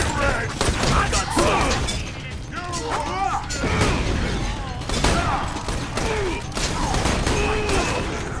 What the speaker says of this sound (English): The shotgun is a beast